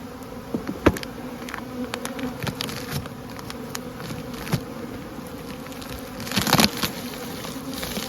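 Honey bees buzz in an opened hive during spring feeding, a steady close-up hum of many insects with occasional louder passes and small knocks.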